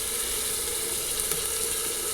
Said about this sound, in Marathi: इथे 2 ते 3 मिनटं छान अशी डाळ भाजून घ्यायची तेलावरती या फोडणीसोबत